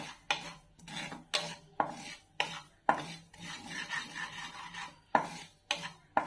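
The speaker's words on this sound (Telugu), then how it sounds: "పాప్ సీడ్స్ ని వేయించుకుందాం మంచిగా." Poppy seeds dry-roasting in a pan while being stirred, heard as repeated close scraping strokes of a spoon with rhythmic pauses between them, fairly quiet and with no talking.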